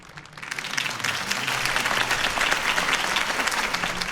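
A crowd applauding after a campaign speech in Batman: The Telltale Series, with dense, sustained clapping that swells quickly and holds steady.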